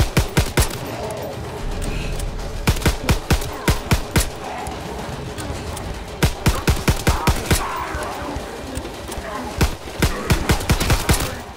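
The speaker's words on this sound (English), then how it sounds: "Need to jump on that machine gun!" Machine gun fire in the World War II shooter Call of Duty: WWII, loud bursts of rapid shots repeating in clusters with short pauses between them.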